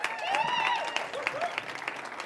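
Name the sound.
audience applause for a band at a church fellowship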